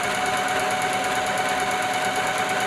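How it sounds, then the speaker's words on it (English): A sewing machine stitches fabric in a straight line, its steady, close mechanical hum running continuously with an even, rapid needle rhythm. "I'm going to sew down this line here."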